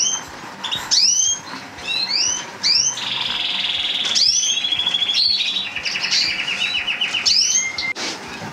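Several canaries chirp and trill in a birdroom, with close, loud, overlapping bright calls and rapid rolling song phrases that fill the space continuously.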